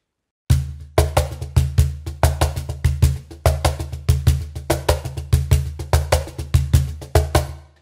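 Cajon groove mixing sharp slap strokes with deep bass tones in a steady, fast sixteenth-note pattern, close and punchy, played alone without any talk.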